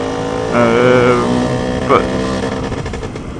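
A Lambretta TSR scooter with a Simonini 260 engine and a different exhaust muffler runs nearby, its engine buzzing steadily with a couple of brief throttle swells under a voice.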